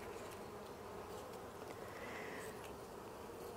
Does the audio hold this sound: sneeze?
no